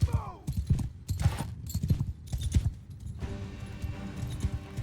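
Horse hooves clip-clop in the video game Mount & Blade, a run of quick, close, uneven thuds in the first few seconds, then a busier battle din takes over.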